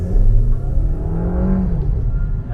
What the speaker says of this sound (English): To show you how powerful it is, let's do a standstill launch right here.